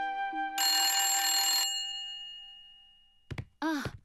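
A cartoon telephone rings with one bright, sustained metallic bell tone that fades slowly, followed by two short tonal chirps.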